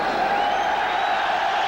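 A boxing arena crowd waits for Alan Minter's ring entrance before his rematch with Vito Antuofermo, giving off a steady, even hum of murmuring and distant cheering with no single voice standing out.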